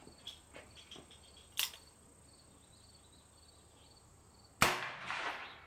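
Colt Trooper Mark III revolver with an 8-inch barrel fires .38 Special over a chronograph on an outdoor range, giving one sharp, loud report that rings out briefly against quiet insect chirping, with a smaller click earlier.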